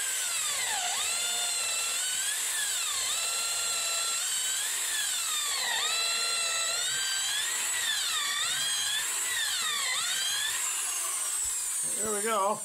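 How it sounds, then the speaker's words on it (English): A hand drill bores holes into a wet wood log for a mason bee house, giving a loud, continuous squealing whine with repeated rising and falling pitch sweeps over about twelve seconds, close up, with a brief clatter at the end. "So I'm going to get them drilled out, let them dry for a month or two, and then ream them out again."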